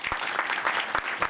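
Brief burst of audience applause at a talk with African youth at ESSEC business school, a steady patter of clapping hands filling the short moment without speech.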